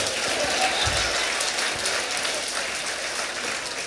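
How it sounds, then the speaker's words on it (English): An audience at a storytelling festival in Nebraska applauds steadily, a dense wash of clapping that stays loud and even for a few seconds. "Let's give a round of applause."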